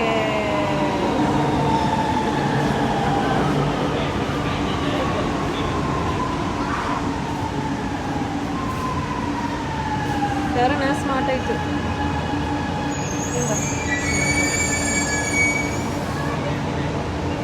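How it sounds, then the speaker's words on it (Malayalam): A metro train in Chennai rumbles in steadily with high, drawn-out wheel squeals rising and falling over it, while a person talks throughout. "ഇതാ നമ്മൾ ട്രെയിൻ വന്നുകൊണ്ടിരിക്കുന്നുണ്ട്"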